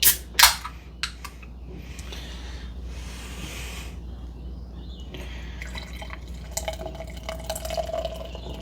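A can of Stone & Wood Counter Culture beer is cracked open with a sharp metallic snap and hiss near the start, followed by a quiet pour and faint fizzing in a still room.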